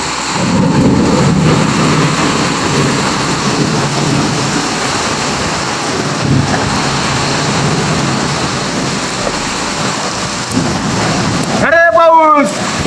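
Heavy village rain roars steadily in a thunderstorm, with dense rushing noise throughout and low rumbles, ending in a short burst of other sound near the close.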